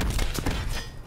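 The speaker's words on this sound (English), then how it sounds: "Concussion grenade out." A concussion grenade goes off in a fast-paced video game, a short muffled thud and thump with a brief burst of crackle, heard close and alone.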